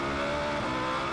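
An A1GP single-seater race car powers out of a corner on a qualifying lap in Australia, its engine note rising steadily and loudly with dense harmonic roar throughout, no voices over it.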